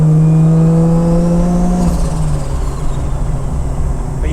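A 450 HP caged Nissan S14 with a turbocharged RB25DET engine under boost, a loud close engine drone holding a steady pitch, then dropping off into a rough, broad rush of air as the throttle closes.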